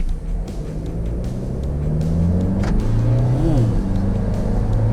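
A Toyota Fortuner GR Sport launches from a standstill toward 100 km/h, its loud engine drone rising steadily in pitch with a gear-change dip near the middle, heard from inside the cabin without talk.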